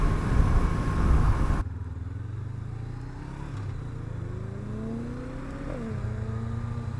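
A 2016 Honda CB500F motorcycle rolls on the throttle in sixth gear, its engine note rising steadily with a smooth hum and wind noise as it picks up speed, no one speaking.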